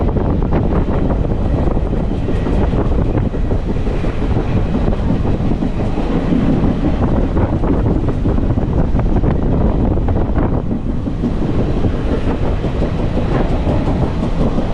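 An 06450 Kayamkulam–Ernakulam unreserved express train runs near Kumbalam station on a windy day, heard from on board as a loud, steady rumble of wheels and carriages with wind buffeting throughout.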